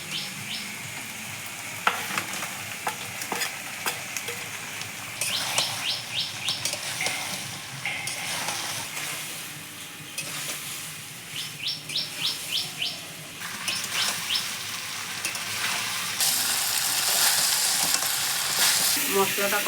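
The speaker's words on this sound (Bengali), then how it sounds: "কাঁকড়াটা দিয়ে দেবো। 5 মিনিট কষিয়ে তারপর জল দিয়ে দেবো।" Crab sizzling and frying with spices in a pan, a steady broadband sizzle with repeated stirring scrapes, bright birdlike chirps breaking in at intervals, with the frying growing louder near the end.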